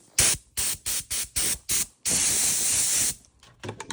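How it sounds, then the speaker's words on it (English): A Kobalt 26-gallon Quiet Tech air compressor feeds an air nozzle. It gives six short sharp hissing blasts of air, then one long sustained blast, then a few faint spurts, all close. "So as you can see, the compressor works good."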